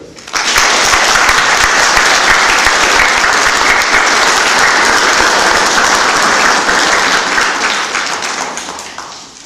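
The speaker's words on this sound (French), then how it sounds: "Pour ces 4 porte-drapeaux, peu importe les masses, on peut les applaudir" Loud, dense applause from a seated assembly honouring four flag bearers at a formal ceremony swells in quickly and holds steady before tapering slightly at the end.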